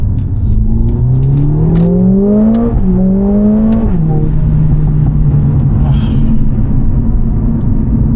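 A Mercedes-AMG A45 S hot hatch with 500 Nm of torque revs hard, its engine and exhaust note sweeping upward in two climbing pulls before dropping back to a steady, loud drone, with no talking over it.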